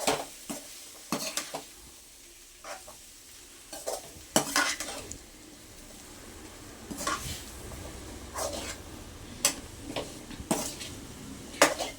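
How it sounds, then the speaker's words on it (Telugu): Masala powder is stirred into vangi bath in a metal pot, with irregular sharp scraping clinks of a spoon against the pot over a soft sizzle, close and alone without speech. "ఇప్పుడు ఈ మసాలా పౌడర్ అంతా కూడా వేసేసాం కాబట్టి నీట్గా ఒకసారి కలిపేసుకుందాం మంచిగా"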